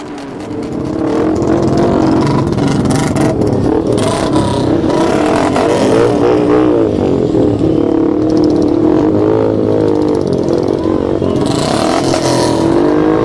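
Motorcycle engines at a bike event at Innovision, NIT Rourkela 2022, roar loud and close in a continuous drone that swells and dips as riders rev, with faint voices in the background.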